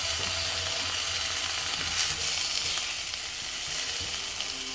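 Onions, garlic and mushrooms sauté in a pot with a steady, close hiss of sizzling and faint stirring scrapes throughout.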